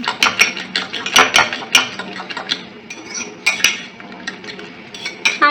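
A utensil clinks steadily against a bowl while omelette ingredients are mixed, a fast scraping and tapping rhythm with bright metallic chinks, close and fairly loud.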